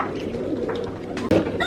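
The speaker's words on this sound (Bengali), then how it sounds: "এটা একটা মতিয়ালে কবুতর।" A Motiwale pigeon imported from Kuwait gives a brief, close coo, a soft low call followed by a short rise near the end.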